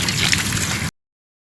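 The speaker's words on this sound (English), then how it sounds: "rinse your anode off thoroughly with running water" Running water pours in a steady rush over a water heater anode rod as it is rinsed, close and fairly loud, then cuts off abruptly.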